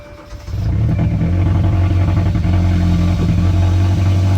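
A loud cammed car exhaust rises from a quiet rumble into a heavy, choppy rev within half a second, then holds a deep, lumpy roar, close and dominant.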